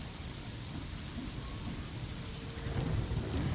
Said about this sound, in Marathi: मुंबईसह उपनगरांमध्ये जोरदार पाऊस सुरू झालेला आहे, तर काही ठिकाणी सोसाट्याचा वारा वाहतोय।